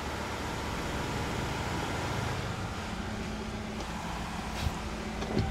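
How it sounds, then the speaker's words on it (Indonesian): Steady, loud mechanical drone of an air compressor outdoors, broadband and continuous, with occasional faint knocks near the end. "itu kan lagi berisik banget ya guys. Ada kompresor"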